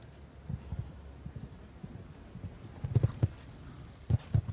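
A big show-jumping horse canters in the Aix-la-Chapelle 2016 Grand Prix, its hooves thudding on the arena in short, rhythmic groups of beats, close and moderately loud over a soft crowd murmur.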